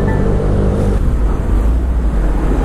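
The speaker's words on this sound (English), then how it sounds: "All right, the good old LA traffic." Car driving through Los Angeles city traffic: a steady, loud low rumble of engine and road noise fills the cabin throughout, with no voices.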